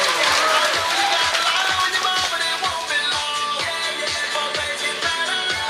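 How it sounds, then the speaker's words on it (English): A round of applause from the audience at a cultural ethnic show, a dense continuous patter of many hands clapping with faint crowd murmur, steady and sustained throughout. "Shall we give them a round of applause?"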